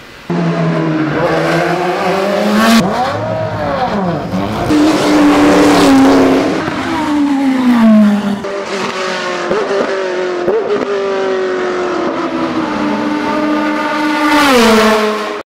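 IndyCar race cars scream past on the downtown street circuit of the Honda Indy Toronto, loud high-revving engines rising and falling with sweeping Doppler pitch changes as several cars pass in succession.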